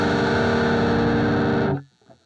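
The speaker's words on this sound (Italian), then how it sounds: "diciamo che cambia il carattere della distorsione." Electric guitar run through AI amp-modelling software with heavy distortion, a loud sustained gritty chord ringing for nearly two seconds before being abruptly cut off into near silence.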